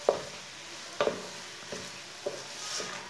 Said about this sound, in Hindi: इसे ऐसे ही चम्मच चलाते हुए पकाना